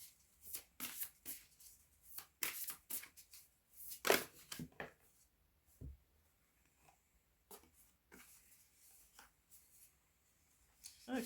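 Tarot cards being shuffled by hand, a run of crisp riffling and rubbing bursts with short pauses between, close and moderately loud, with no talking.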